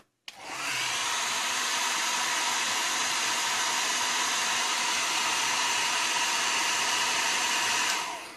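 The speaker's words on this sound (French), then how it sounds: "Ça, c'est un coup de sèche-cheveux." A hair dryer blows steadily at close range on a 1/24 Fujimi McLaren F1 GTR Long Tail scale model car part, a loud, even broadband rush that starts abruptly, holds for about eight seconds and then cuts off, with no talking over it.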